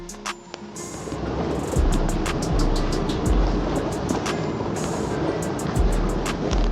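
Rushing water of the Ganges river in a 2D animated scene forms a steady, broad wash of noise, with a series of short, sharp high clicks and ticks scattered over the flow.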